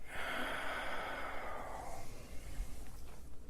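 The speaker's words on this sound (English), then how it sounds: "Deep breath. Lift your chest up and out. Inhale more." A single long, deep inhale drawn in through the nose during a stiff-neck acupressure exercise, breathy and close, fading out over about two seconds into quiet room noise.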